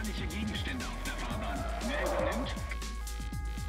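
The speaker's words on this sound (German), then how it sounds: "Okay, wir driften hier," A car drifting in a German police driving video game, its engine revving in rising and falling sweeps with tire squeal mixed in, steady and continuous while someone talks excitedly over it.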